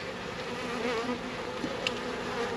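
A dense, continuous hum of honey bees fills the air around a hive during a package install, steady and close with no voices.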